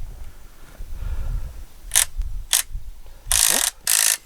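A ratchet socket wrench clicks in short bursts while working on a David Brown 990 tractor during removal of the rockshaft and hydraulic lift cylinder, with low mechanical rumble underneath and louder, longer ratcheting near the end.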